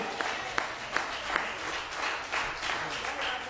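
A church congregation applauds during a sermon, with scattered claps swelling into a sustained round of clapping, moderately distant and fairly soft.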